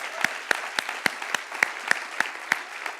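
About ten evenly spaced, sharp hand claps at a morning church-style gathering, crisp and moderately close, with quiet gaps between each clap and no voices.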